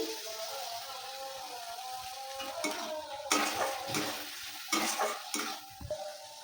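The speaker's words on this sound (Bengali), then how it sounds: "এই যে দেখুন এখানে মশলাটা ভালো করে কষিয়ে নিয়েছি।" A paste of tomato, ginger, garlic, chilli and spices such as cumin, salt and turmeric frying in oil, with a soft steady sizzle under occasional louder stirring scrapes against the pan.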